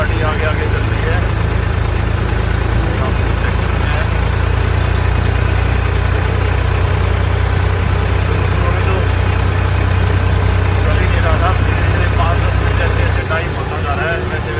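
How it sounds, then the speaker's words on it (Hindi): A tractor engine drones loudly and steadily while it is driven on a road in the NCR region of India. The low, constant mechanical roar fills the whole stretch with no break. "एनसीआर में ट्रैक्टर चलाने का अलग ही मजा है"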